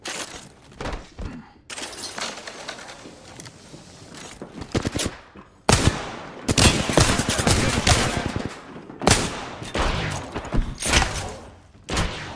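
Bursts of rapid automatic gunfire in Apex Legends, a solo Mirage match, rattle in close dense volleys separated by brief gaps, loud and sustained across the stretch with occasional sharper single cracks.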